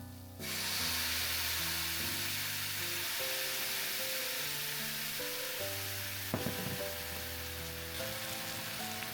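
Light steady sizzling of food stir-frying in a little sesame oil over medium heat, with soft scraping and stirring noises and a few sharper clatters near the end.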